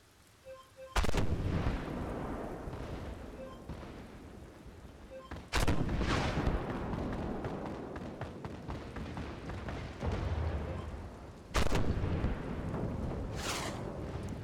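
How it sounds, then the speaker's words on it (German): Three heavy tank cannon blasts in the video game Armored Warfare, each a sharp boom followed by a long rumbling tail, spaced several seconds apart amid battlefield noise. "Alle 3 Sekunden kann man 3 Schüsse schießen"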